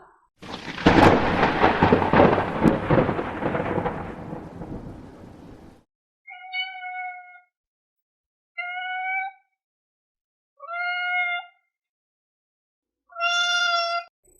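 Recorded thunder rolls loudly for several seconds, then fades into silence, followed by four separate, clear cat meows spaced apart, each short and high-pitched.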